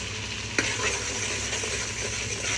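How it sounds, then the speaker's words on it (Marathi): Spices sautéing in oil in a pan for a home-style crab curry, giving a steady, close sizzle throughout with a brief stirring scrape just after the start. "मसाले चांगले परतून द्यायचे।"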